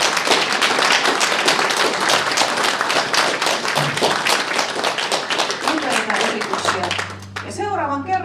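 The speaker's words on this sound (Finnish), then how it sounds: "annetaan aplodit myös meidän kaikille taideliikutustähdille" An audience at an evening variety show in Helsinki claps steadily for several seconds, dense and close, while a voice speaks over the fading applause near the end.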